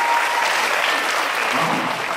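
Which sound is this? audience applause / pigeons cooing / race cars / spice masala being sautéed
audience applause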